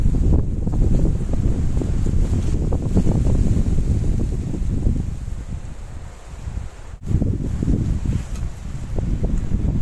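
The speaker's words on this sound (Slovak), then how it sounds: "Tu začína byť silnejší ten vietor" Strong mountain wind gusts steadily near a mountain settlement, buffeting the microphone with a loud, continuous low roar that eases briefly before surging back, with no one talking.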